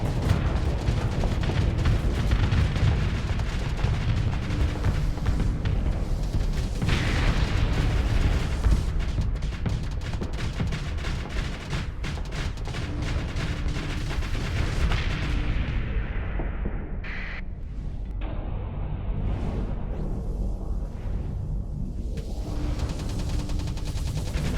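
Heavy space-combat gunfire and booming explosions from the game Starsector, a dense continuous barrage of rapid shots and blasts, loud throughout, with no voices.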